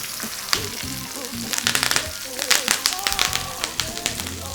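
Garlic halves with bay leaf, rosemary and thyme frying in a pan ahead of a steak, a steady close sizzle with scraping and clatter, music-like tonal sounds and talk running over it.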